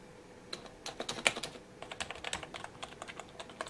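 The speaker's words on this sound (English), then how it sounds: "This is a rubber dome keyboard." Fingers type quickly on an NPET K10 RGB backlit gaming keyboard with rubber dome switches and a metal backplate, giving soft, rapid, fairly quiet key clatter with no talking.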